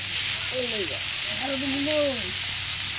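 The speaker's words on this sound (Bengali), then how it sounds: "মূলা শাকগুলো দিয়ে দিল, দিয়ে দিয়ে সুন্দর করে নেড়ে চেড়ে ভাজি করে নেবে।" Radish greens frying and stirred in a pan give a steady, close sizzle throughout, with scraping stir sounds and faint chirpy tones over a constant hiss.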